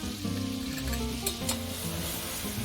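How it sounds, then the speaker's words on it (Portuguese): Flour being whisked into melted butter in a pan for an apple pie filling, a steady close sizzle with scraping whisk strokes and a couple of brief clinks, no talking. "Sempre mexendo com o fouet aqui,"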